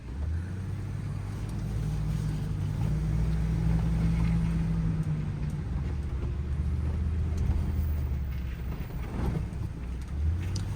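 A 2015 Ford F-550 crane truck's V10 engine drones steadily as it drives, a low, continuous rumble with faint road and wind noise.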